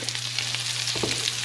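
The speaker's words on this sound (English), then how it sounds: "These onions will sweat pretty well, which will also help with keeping things from burning." Onions sweating with garlic salt in a pan, a steady close sizzle with a constant hum under it, brief and without talk.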